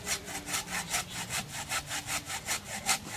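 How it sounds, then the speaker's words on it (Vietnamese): A small hand saw about 30 cm long rasps steadily through a coconut palm trunk, about a dozen even back-and-forth strokes in quick rhythm, close and clear with no talking. "Thấy cái cưa nhỏ nhưng mà lợi hại nha."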